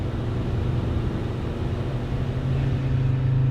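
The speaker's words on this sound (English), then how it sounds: "So now you can like hear this boggy sound, and I've lost all acceleration possible." A Mercedes Sprinter van engine bogs and loses power while climbing a hill at about 60 km/h, a steady loud low drone with road noise and a strained hum rising slightly near the end.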